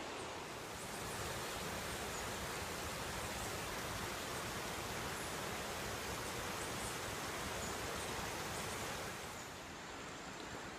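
A river flows nearby in the countryside of Pedro Vicente Maldonado, Ecuador, a loud, steady broadband rush of water that carries on unbroken and alone, easing slightly near the end.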